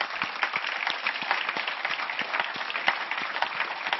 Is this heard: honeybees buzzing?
no